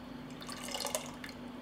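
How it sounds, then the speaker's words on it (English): Juice of a fresh lemon squeezed and dripping into a bowl, several soft, close, faint liquid drips scattered over a quiet background. "I will add the juice of 1 lemon."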